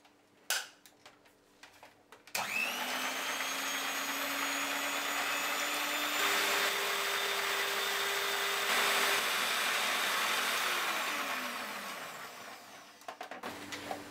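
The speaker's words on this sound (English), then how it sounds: "So I'm going to add 3 eggs into the beater." An electric hand mixer beats eggs for a sponge roll. After a few soft clicks it starts up and whirs steadily and loudly, its pitch shifting slightly, then winds down near the end.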